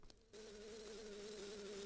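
A bee in the video game Majora's Mask, a steady tonal buzz that starts abruptly after a short pause and continues unbroken, faint and alone.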